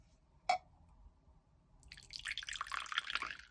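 Tea is slurped or poured close by: a single sharp drip-like tick, a short pause, then a couple of seconds of airy, gurgling liquid noise, with no one talking.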